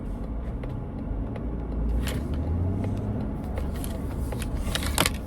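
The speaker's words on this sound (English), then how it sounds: "You definitely hear some engine whine," Engine whine from a Mazda CX-90 three-row SUV while driving, a steady low cabin rumble with faint tonal drone and occasional light rattles and clicks, continuous and moderately loud with no talk.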